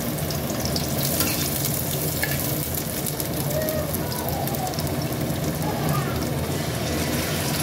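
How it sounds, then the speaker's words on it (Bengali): Egg fries with chopped capsicum, onion and chilli in a pan, producing a loud, continuous close sizzle and spatter, steady throughout like rain on a surface, with no talking. "এইখানে করে নিচ্ছি ডিম ভাজা।"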